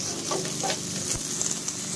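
On high flame, a filling for an egg and cheese sandwich fries and is stirred in a pan, giving a continuous close sizzle broken by soft scraping and stirring noises.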